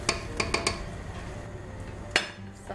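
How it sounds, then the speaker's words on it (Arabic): A spoon clinks and scrapes against a metal cooking pot while food with tomato paste is stirred, a few sharp taps in quick succession, then a pause and one louder knock. "نحرك هادشي شوية"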